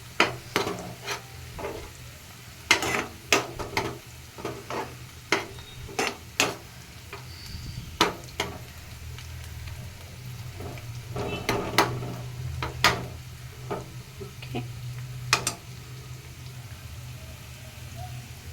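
Onions fry in oil in a pan for a gongura and chukkakura chicken curry, a soft steady sizzle broken by sharp clinks and scrapes of a spoon stirring against the pan.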